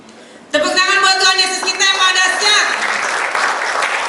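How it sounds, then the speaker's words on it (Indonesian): A church congregation at a Christmas celebration bursts into applause, with loud, dense clapping starting suddenly and holding steady, while a voice speaks and sings over it through amplification. "Tepuk tangan buat Tuhan Yesus kita yang maha dahsyat."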